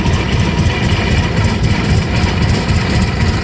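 An oil pull tractor engine runs loud and close at a threshermen's show parade of power, a steady, throbbing low-pitched chug with no pauses or talk.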